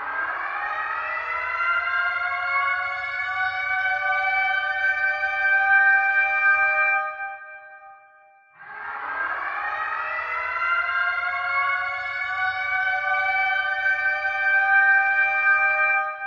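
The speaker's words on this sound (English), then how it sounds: "that sounds like a freaking bomb siren" Civil-defense-style siren from a Fortnite event countdown: two long wailing blasts that each rise and hold a loud, sustained tone, separated by a brief dip around the middle, with no voices.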